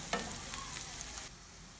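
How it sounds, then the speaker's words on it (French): Small chopped onions fry in a pan with a steady close hiss and crackle that drops slightly near the end, with no voices. "je vais y ajouter mes oignons découpés en petits morceaux. Et je vais laisser cuire pendant 3 minutes en mélangeant de temps en temps"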